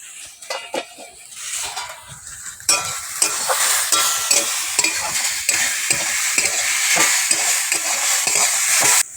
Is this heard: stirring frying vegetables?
yes